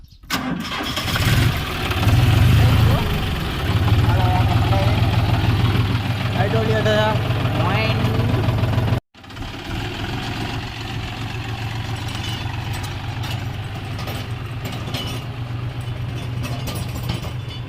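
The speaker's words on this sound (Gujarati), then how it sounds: "ચાલો આપણે ટ્રેક્ટર ચાલુ કરીને કામ કરી નાખીએ ટ્રેક્ટર ચાલુ થા" A tractor engine starting on a village farm, then running with a steady low rumble that continues after a brief cutoff, loud and close, with someone talking over it.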